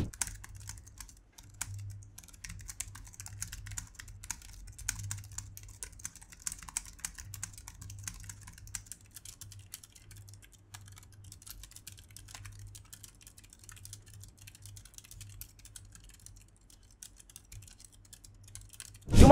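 Typing on a Rexus wireless office keyboard with scissor switches: quiet, quick, continuous key taps in a steady flurry, soft and close, with no voices.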